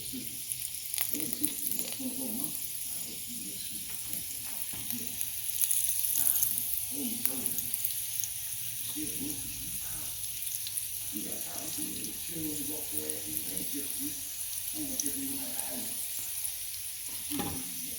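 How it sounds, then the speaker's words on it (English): Egg rolls fry in oil in a skillet with a steady, soft sizzle that carries on throughout while a person talks over it. "we're gonna let them fry"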